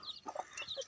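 A brooding hen sitting on a clutch of about forty eggs gives soft, quick clucks and low murmuring calls, close and faint, in a brief stuttering burst.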